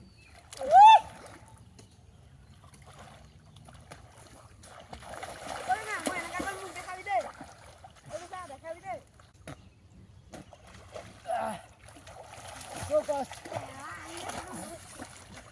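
Water splashing and sloshing as someone bathes and dunks in a pond, a loud close splash near the start followed by intermittent smaller splashes, with people talking throughout.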